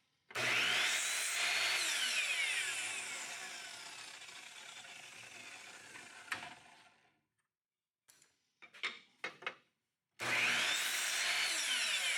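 Power router cutting a piece of scrap wood clamped on a workbench, a loud, close whine that gradually fades before cutting off, followed by a few clattering knocks and then the router starting up again.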